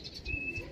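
Brief, faint bird sounds at a racing pigeon loft, with a soft chirp, a thin whistle-like tone and low muffled thumps that could be wing flaps, all within under a second.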